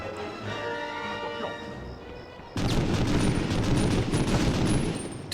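A loud, sustained volley of gunfire bursts out suddenly in the PS1 shooter Medal of Honor: Underground, following a quieter stretch of game ambience.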